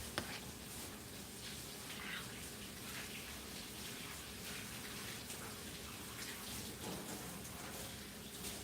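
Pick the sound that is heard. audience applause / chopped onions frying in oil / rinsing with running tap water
rinsing with running tap water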